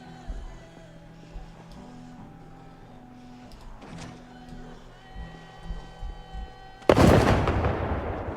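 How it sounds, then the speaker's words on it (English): A bomb bursts in the Project Zomboid video game, one sudden loud blast near the end that dies away slowly, after quieter game tones and faint knocks. "Bombs."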